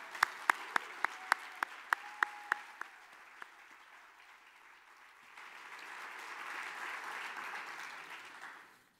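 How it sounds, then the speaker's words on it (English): An audience at a university awards event applauds committee members who stand, opening with a few loud, distinct nearby claps, then swelling into sustained clapping from the whole room before it fades out. "please stand and let's give them a round of applause"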